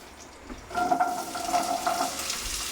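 Small onions, about 200 grams, going into oil in a new pan for crab curry, bursting into a loud, steady sizzle after a brief quiet start, with stirring scrapes on top.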